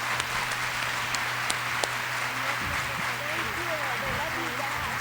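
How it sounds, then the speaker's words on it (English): An audience applauds to welcome a speaker at a spring opening day event, a steady, moderate wash of clapping with voices murmuring and calling underneath. "Ladies and gentlemen, please join me and give a warm round of applause for Ms."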